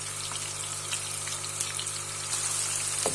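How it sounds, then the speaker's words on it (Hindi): Cumin seeds frying with softened onions in hot oil for zeera aloo give a steady, close hiss and sizzle with faint crackles, no one speaking over it. "प्याज थोड़ी सॉफ्ट हो जाएगी तो 1 टेबलस्पून भर के ज़ीरा डालेंगे।"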